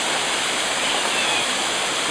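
Heavy thunderstorm rain with brief hail pours steadily in Sydney, a dense, loud, unbroken roar of water on surfaces, like a waterfall, with no pauses and no voices.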